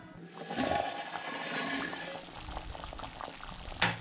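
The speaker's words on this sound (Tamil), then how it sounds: "நல்லா கொதிச்சிருச்சு, ஸ்மெல் வர ஆரம்பிச்சிருச்சு." Madras-style fish curry (meen kulambu) boiling in a covered pot, a faint steady bubbling and simmer with a brief clatter near the end, no talk.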